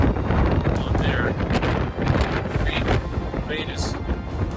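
Strong gusty wind sweeping across a boat on the way to Charleston as a gust front passes, a loud, continuous roar buffeting the microphone with sharper surges throughout.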